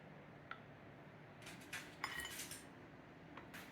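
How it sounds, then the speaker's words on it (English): A knife slices through a moist Watergate pistachio cake, with quiet scraping and clinks of cutlery against a plate in short bursts, faint and close. "let's slice a piece"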